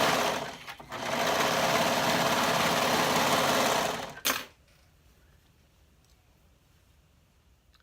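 A sewing machine runs a quarter-inch seam through fabric for a tank bodice, a loud steady whir for about four seconds after a brief pause, then stops abruptly into near silence.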